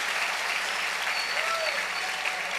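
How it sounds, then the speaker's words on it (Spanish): Steady, dense applause from a church congregation fills the room evenly throughout, loud and continuous with a crowd murmur beneath. "dale otro aplauso a Rey"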